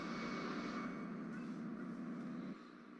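Spacecraft engines at full power in the video game Homeworld: Deserts of Kharak, a steady broadband roar and hum that drops slightly in level near the end, with no talk.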